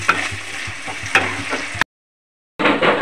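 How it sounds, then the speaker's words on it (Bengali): Ginger paste frying in a pan for an egg and potato curry crackles and sizzles with a few sharp spatters and stirring scrapes, cutting out briefly before the frying resumes. "আদাটাও দিয়ে দেবো। একটুখানি ভেজে নেবো এটাকেও।"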